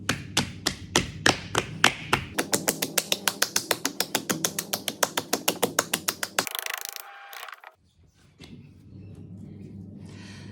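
Hands slap a large mound of clay spinning on a pottery wheel, a fast, steady run of sharp tapping thuds that speeds up, then stops, followed by the softer whir of the wheel.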